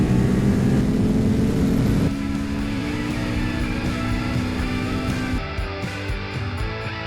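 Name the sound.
motorcycle accelerating at full throttle in 4th gear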